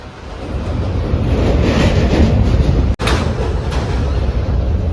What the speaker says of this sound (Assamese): চাওক কিমান ডাঙৰ ট্ৰেইন।